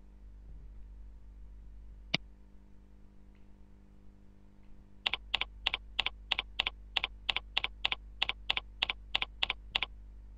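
Typing on a computer keyboard while entering a password, a single sharp click followed later by a quick, even run of about fifteen close keystrokes in a quiet room.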